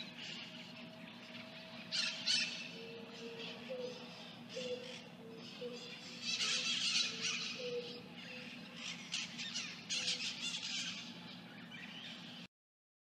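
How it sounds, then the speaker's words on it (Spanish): Parrots squawk over a street in Peru, their harsh, repeated calls coming in bursts at moderate distance above a low, steady background hum. "el sonido de los loros."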